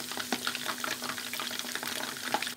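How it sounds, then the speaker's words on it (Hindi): Pieces of boneless chicken fry in hot oil for Manchurian, a steady bubbling crackle with a few small pops, fairly quiet and with no one talking. "ये चिकन बोनलेस जो है हमारी मंचूरियन के जैसा फ्राई हो रहे हैं"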